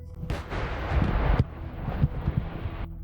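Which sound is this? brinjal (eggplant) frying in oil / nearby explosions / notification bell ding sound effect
nearby explosions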